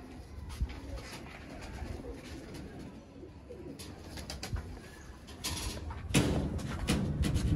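Pigeons of a prized Sialkoti breed cooing softly in a loft, faint low calls repeating under a noisy background with occasional thumps and rustles.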